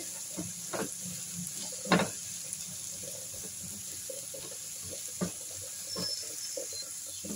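Chopped garlic and sautéed onions fry in a pan with a soft, steady sizzle, broken by a few sharp clicks and knocks from stirring, close and fairly quiet, with no talking.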